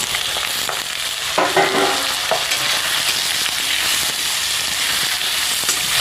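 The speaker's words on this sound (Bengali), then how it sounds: "এবার দিয়ে দেবো কেটে রাখা আলু" Diced potatoes added to a pan of fried onions in hot oil, a strong steady sizzle with stirring scrapes and a louder burst as the pieces go in.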